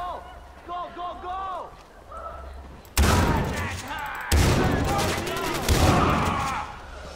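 Heavy gunfire erupts in Far Cry 4 as loud, dense bursts crack out, with two sharp onsets a second apart, over agitated shouting and game music.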